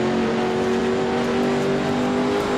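A Chaparral 2F race car engine in the Grand Prix Legends racing sim, holding a steady, loud, continuous drone at high revs throughout, with no voices.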